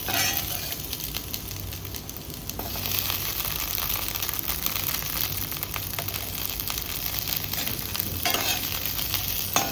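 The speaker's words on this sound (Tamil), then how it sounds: "நம்ம பூண்டு, இஞ்சி போட்டு 3ஐயும் சேர்த்து இன்னும் ஒரு 3 நிமிஷம் நல்லா வதக்கணும்" Onion, garlic and ginger sautéing in a pan, a steady close sizzle and crackle with occasional scraping stirs, soft but continuous throughout.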